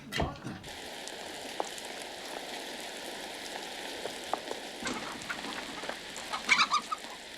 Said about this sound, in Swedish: Lille Emil ville vara snäll och stänga för hönsa.